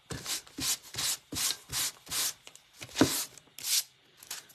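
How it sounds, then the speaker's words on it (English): Rhythmic rubbing strokes of a sanding block with very fine sandpaper on a wooden breadboard, about a dozen back-and-forth passes, close and fairly soft, with no talking. "I actually might go over the whole thing, just a tiny bit with my sanding block"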